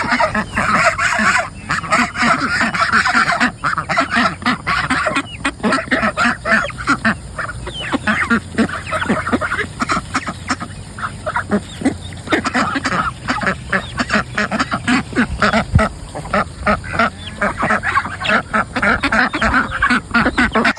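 Geese on a homestead honk steadily and loudly nearby, a chorus of overlapping nasal honks and quacks continuing without pause throughout.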